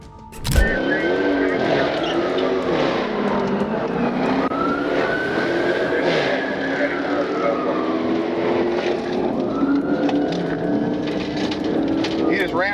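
A Dodge Charger fleeing police at high speed roars steadily and loudly, its engine pitch rising and falling with faint tire squeal and siren-like tones, while a narrator talks over it throughout.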